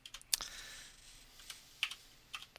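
Typing on a computer keyboard while building a web page, a close, quiet run of irregular key clicks and taps in short bursts, with no talking.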